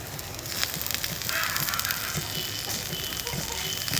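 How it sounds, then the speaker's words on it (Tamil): Maggi noodles with capsicum sizzle and fry in a small pan as they are stirred, giving a continuous crackling hiss with soft scraping, close and moderately loud. "நம்ம நல்லா கிண்டி விடலாம் ஃப்ரெண்ட்ஸ்."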